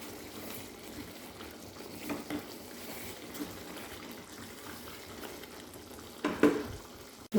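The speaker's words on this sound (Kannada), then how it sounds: "ಕುದ್ದು ಫುಲ್ ಡ್ರೈ ಆದಷ್ಟು ಟೇಸ್ಟ್ ಜಾಸ್ತಿ ಗೀ ರೋಸ್ಟ್ ಇದು. ತುಪ್ಪದಲ್ಲಿ ಕುದಿಯಿತ್ತು ನೋಡಿ" Prawns ghee roast bubbles and fries in ghee, a close, continuous sizzle and simmer with soft stirring scrapes and a few louder pops near the end.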